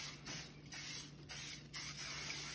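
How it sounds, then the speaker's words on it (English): Several short hissing bursts of aerosol cooking spray into cake pans, one after another with brief gaps, close and steady. "So what I do, I just spray these really well."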